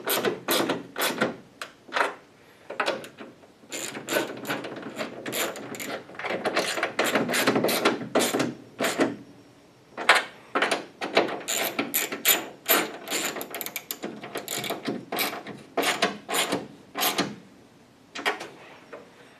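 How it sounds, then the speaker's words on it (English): A socket wrench ratchets on a Mustang hood insert bolt: quick, close bursts of sharp metallic clicking, repeated in uneven runs with short pauses, no talking. "Well, I guess I can get a socket on it."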